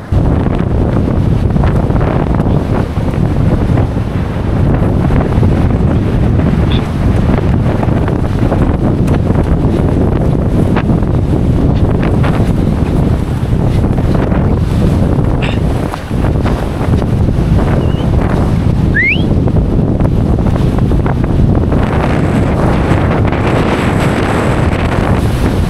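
Strong northeast monsoon wind sweeps over a rocky seashore fishing spot. It roars loudly and continuously into the microphone with heavy buffeting, and faint surf sounds underneath.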